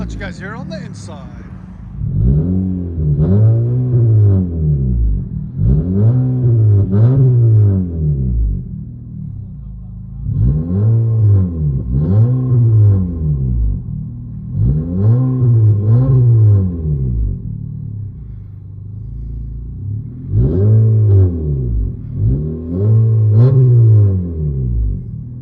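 From inside the cabin, the straight-pipe exhaust of a 2024 Honda Civic Sport 2.0L booms through about eight evenly spaced rev pulls, each swelling and falling back to a deep rumbling idle, steady and loud.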